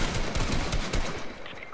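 Rapid gunfire from the video game Fortnite plays as a dense, close burst of shots for under two seconds, with no talking.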